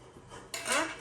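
Metal spoons clink against each other and dishware in a brief, close rattle, growing brighter and louder in the second half.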